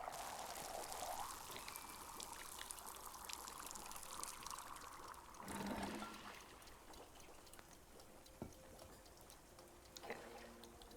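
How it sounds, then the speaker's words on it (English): Liquid being poured out, a steady close trickling and splashing stream that runs for several seconds, then thins and stops, with a few small clinks and knocks afterward. "I gotta pour this out."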